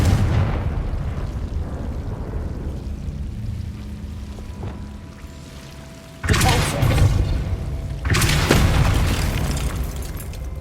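A Confringo blasting spell in Hogwarts Legacy sets off two loud, sudden explosive bursts, each with a broad crackling roar that slowly trails away, over a low rumbling game ambience.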